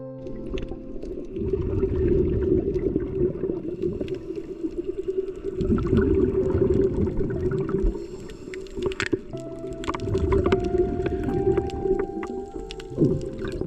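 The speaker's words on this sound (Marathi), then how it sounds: "अखेर मी पाण्यात डायव्ह केली" Scuba diving in the sea off the Konkan coast: a muffled underwater rumble with bubbling gurgles and occasional low tonal swells that rise and fall across the dive.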